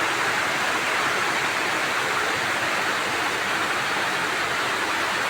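Heavy rain drums steadily on a tin roof during a downpour, a dense, unbroken roar of water that stays loud and even for the whole stretch with no voices over it.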